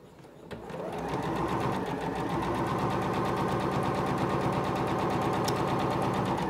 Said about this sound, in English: we'll push the pedal and just sew right along this edge